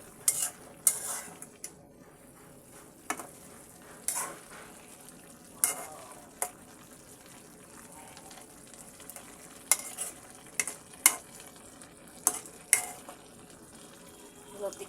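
Boiled taro stolons (kochur loti) are stirred in a cooking pot, with intermittent scraping and clinking of a utensil against the pot over a faint simmering sizzle.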